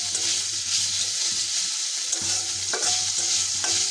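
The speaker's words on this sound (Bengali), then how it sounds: "দিয়ে মশলা দিয়ে মাংসটা কষাই নিতেছি" Small chicken pieces stir-fry with onion, green chilli, ginger, garlic and spices, a loud continuous close sizzle broken by several spatula scrapes and clinks, with no speech.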